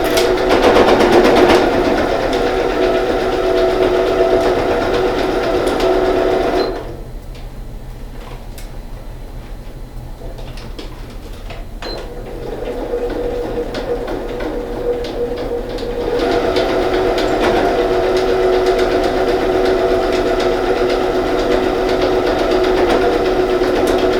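A sewing machine stitches a men's toiletry bag with a rapid ticking whir, pausing for several seconds midway before resuming at full pace, loud and close.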